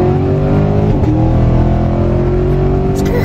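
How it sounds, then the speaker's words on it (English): A car drives along a road with its engine loud and close, revving and pitching up as it accelerates, a steady engine drone throughout with a brief shift partway. "This car is still fun to drive."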